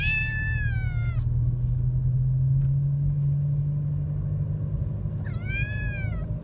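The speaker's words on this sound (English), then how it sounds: "Then, in 2019, we realized we really missed having a cat around, and that is when we found Pixel." A pet cat meows twice with clear, wavering cries at the start and end, separated by a steady low rumble of a road vehicle or motor in the background.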